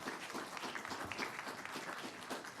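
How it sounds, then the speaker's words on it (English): Audience applause at a city public scoping meeting in San Jose, a soft, dense wash of clapping hands heard at a distance, steady and faint throughout. "I would just ask for a slight bit of applause for the staff who are here trying to help us manage this process"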